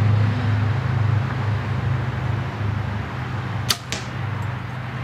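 A Winchester Black Horse compound bow shot at about 20 yards, giving one quick, soft release thump over a steady outdoor background hiss, near and brief with very little noise.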